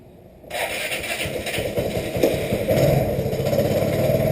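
A Vespa GTV 250i scooter engine, under repair for an exhaust stud, starts up abruptly after a quiet moment and runs with a close, steady, slightly clattering idle that builds gently, with no talking.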